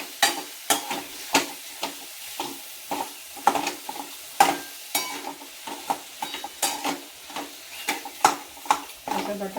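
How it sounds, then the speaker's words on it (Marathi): A spatula stirs vegetables sautéing with salt and potato in a pan for dosa filling, giving sharp, regular scraping and tapping strokes over a soft sizzle, close and fairly loud. "चांगली भाजी परतून घ्यायची 5 मिनिट."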